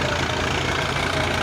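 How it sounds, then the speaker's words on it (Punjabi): A New Holland tractor engine runs close by, a loud steady low throbbing idle with a regular knocking pulse and no talk. "ਬਾਕੀ ਸਾਊਂਡ ਬਹੁਤ ਵਧੀਆ ਆ ਰਿਹਾ ਉਹ ਟਰੈਕਟਰ ਦਾ"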